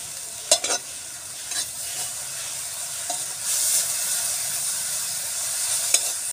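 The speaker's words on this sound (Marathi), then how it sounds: "काही मटकी चांगली खरपूस भाजून घेऊया." Sprouted moth beans (matki) roast in hot oil with a continuous nearby sizzle, and a handful of brief scraping clicks mark the stirring throughout.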